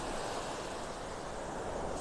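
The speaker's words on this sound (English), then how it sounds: "Just listening to the waves." Ocean waves wash steadily onto a beach in North Naples, Florida, with a light southeast breeze. The surf makes a continuous, even roar with no talking.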